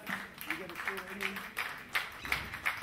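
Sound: audience clapping at a concert

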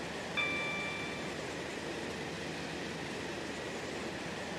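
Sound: train coasting over viaduct in Stepford County Railway video game

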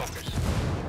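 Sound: gunfire in Ghost Recon Wildlands video game

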